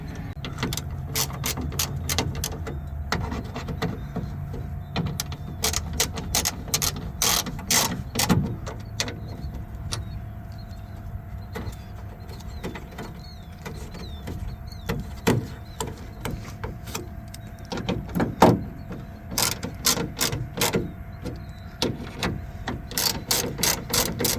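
Ratcheting clicks come in quick bursts as three 10mm bolts are tightened on a Volvo VNL truck door, close and fairly loud, with pauses between runs and a steady hum underneath.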